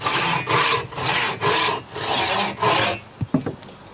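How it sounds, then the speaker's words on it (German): A long saw blade cuts a window opening through the wooden wall of a bushcraft shelter, making six rhythmic, rasping strokes up close, then a few light knocks once the sawing stops. "Und jetzt wird das Fenster ausgesägt."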